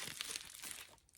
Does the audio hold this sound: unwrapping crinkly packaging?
yes